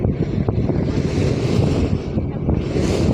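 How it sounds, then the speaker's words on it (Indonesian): Steady wind buffeting the microphone over sloshing waves on a boat crossing open sea toward Batuatas Island, a continuous broadband roar with no talk. "Di bagian sini agak sedikit berombak tapi tidak berpengaruh sih gitu."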